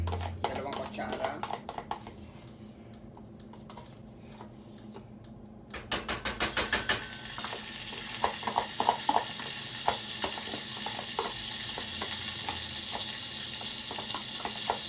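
Butter, two spoonfuls added to a pan with olive oil, hits the heat and breaks into a steady close sizzle with crackling pops, preceded by quieter clicks and handling of utensils and a voice talking.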